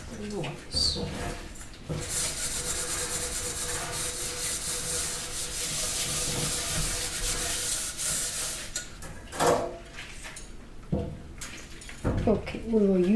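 Rough scrubbing of dishes by gloved hands, a steady close abrasive rubbing that runs continuously for several seconds, followed by a few scattered clinks and shorter rubs near the end.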